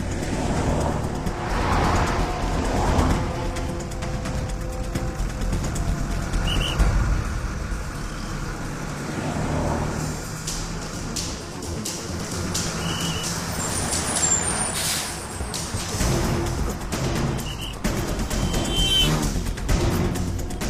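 A bus engine rumbles steadily amid surrounding road traffic, a continuous, fairly loud drone with brief hissy bursts that may be air brakes, and no speech.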